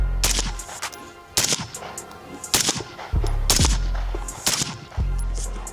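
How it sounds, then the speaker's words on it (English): Loud, close gunshots from a SOLGW MK1 rifle with a P-Mag, fired from a low position, about six sharp cracks at an uneven pace, each with a booming tail. "I'm gonna go shooting from the bottom now."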